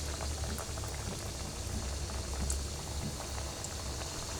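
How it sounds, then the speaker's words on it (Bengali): Homemade biscuits fry in hot oil over medium heat, producing a dense, even bubbling sizzle that stays loud and close for the whole stretch, with no talking. "আমি এখন একে একে বিস্কিটগুলো ভেজে নেব।"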